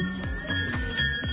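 Many bells tied up at Golu Dev temple in Bhimtal ring in a continuous metallic clangour, with repeated strikes about every quarter second over a busy background.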